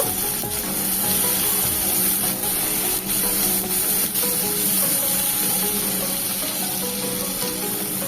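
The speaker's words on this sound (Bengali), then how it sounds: "বেশ ভালো করে টমেটোটাকে একটু ফ্রাই করে নিচ্ছি নরম হয়ে আসা পর্যন্ত" Tomatoes with salt and turmeric fry in a pan while being cooked down for an okra dish, a steady loud hiss and sizzle with faint scraping, no voices.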